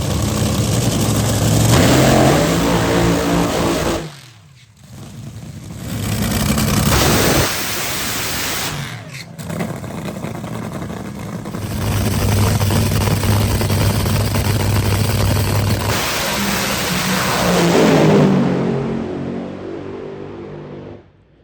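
Nitro dragster engines revving at a drag strip starting line, loud roaring bursts that cut out abruptly and rise again in long waves, close and overwhelming.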